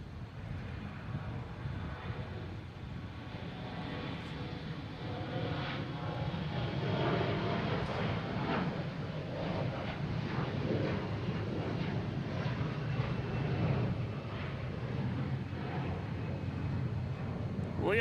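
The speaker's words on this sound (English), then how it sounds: "We have a Delta taking off, heading to Charlotte" A Delta airliner takes off from Boston Logan bound for Charlotte, a broad continuous jet roar that swells and holds steadily at a distance for the whole stretch.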